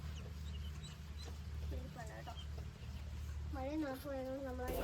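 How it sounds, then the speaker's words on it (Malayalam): Newly hatched baby ducklings in a coop give a few high peeping calls, faint at first and then louder and closer in rising chirps near the end, over a low background rumble. "അപ്പോൾ നമ്മൾ കൂട്ടിലെ ബേബി താറാവിനെയാണ് കേട്ടോ കണ്ടത്"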